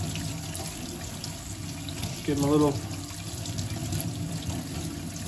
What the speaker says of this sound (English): you're gonna wanna wash your bones with some warm water,